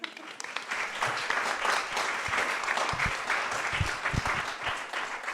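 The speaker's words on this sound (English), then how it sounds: "Should we have another little round of applause?" Another round of applause from an audience at a community talk at Knowle West Media Centre in Bristol, a steady crowd clapping with a few sharper close claps standing out, moderately loud and continuous.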